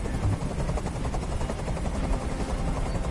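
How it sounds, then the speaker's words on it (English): A helicopter in the video game Detroit: Become Human gives a loud, constant rotor thudding and engine roar that fills the whole stretch with no pauses. "Tell that helicopter to get out of here."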